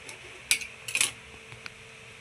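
A kitchen knife cuts a lemon on a board, giving two or three sharp close clicks spaced about half a second apart, with faint background hum between them.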